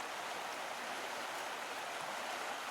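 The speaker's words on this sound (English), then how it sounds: "Maybe it's a little creek." A small creek flows with a constant, soft rushing hiss of water, steady and even with no voices over it.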